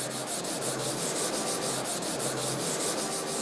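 Steady rhythmic rubbing on the surface of a white BLANCO SILGRANIT kitchen sink as marks are scrubbed off, a close, continuous dry scrubbing with quick back-and-forth strokes and no talking.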